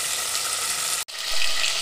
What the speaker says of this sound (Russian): После того, как минут 5-7 обжариваем мясо